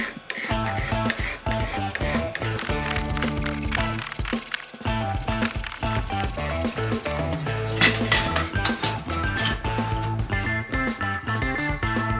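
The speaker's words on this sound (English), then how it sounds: "Now I'm just going to file these down, clean them up a little bit, and prep them for welding" Pieces of cut metal for a small welded rocketship are filed down by hand, with repeated rasping strokes in an uneven rhythm and some clinking of the pieces, close up and heard alone.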